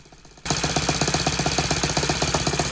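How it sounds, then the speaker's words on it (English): Loose screws rattle on a test stand beside a running nitro four-stroke model airplane engine, a Saito 100, loud and close, starting abruptly after a quiet moment and then buzzing in a fast, steady rhythmic chatter. "the rattling here is actually all the loose screws on the test stand"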